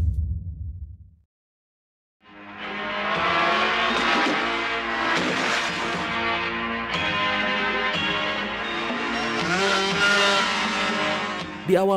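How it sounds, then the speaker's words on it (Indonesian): Suzuki RG500 two-stroke motorcycles street racing in a film, their engines rising into a loud, dense, buzzing roar with shifting revs that holds steady for most of the stretch, after a short low rumble and a brief pause. "beberapa geng motor yang mengendarai motor Suzuki RG500 2 tak lagi melakukan balapan liar"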